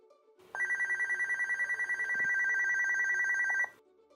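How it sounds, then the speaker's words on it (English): A MAX video intercom monitor rings from an entry panel call: a steady electronic trilling tone, rapidly pulsing at first then held continuously for about three seconds before stopping, clear and alone. "The MAX monitor starts ringing."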